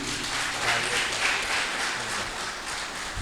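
At an excellence awards ceremony, an audience applauds a prize winner with a dense, even wash of clapping that stays steady from start to finish, with some faint voices mixed in.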